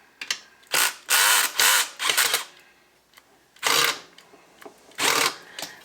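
A weakening battery electric screwdriver whirs in several short bursts of uneven length, close and loud, while backing a screw out of the bottom of a speaker.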